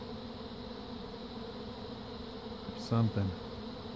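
A bee swarm buzzes steadily around a hive outdoors, a dense continuous drone close by, with a brief louder bump near the end and a few spoken words.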